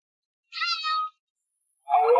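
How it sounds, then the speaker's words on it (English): A cat gives two distinct meows, close and clear, separated by a short silence. "Cat."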